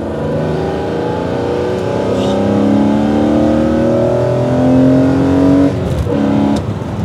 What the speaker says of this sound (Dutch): we gaan zo eens even kijken hoe het dan klinkt als we wel het gas open trekken